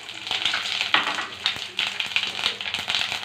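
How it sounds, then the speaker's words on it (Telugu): Whole spices sizzle and crackle steadily in hot oil for chicken biryani, a dense, continuous fry with sharper spattering bursts throughout and no talk over it. "ఇప్పుడు ఈ నూనెలో దినుసులు వేసుకుంటున్నా."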